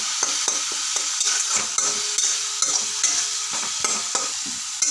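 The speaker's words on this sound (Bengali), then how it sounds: "এখন মশলাটাকে আমি ভেজে নিলাম" Spice paste sizzles and fries in a pan for an egg and potato dish, with a steady crackle broken by repeated scraping stirs of a utensil against the pan, close and fairly loud with no talking.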